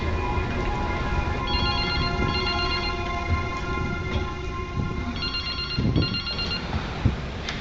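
An old telephone in Resident Evil Requiem rings in two pairs of bright bell bursts, loud over a dense, rumbling game ambience.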